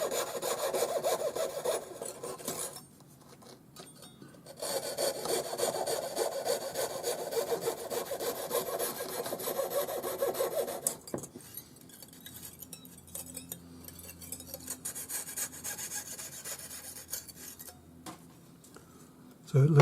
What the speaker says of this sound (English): I'll cut my funnel in there just using the jeweler's saw.